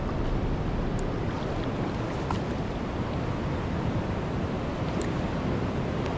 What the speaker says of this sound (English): Big bit of swell.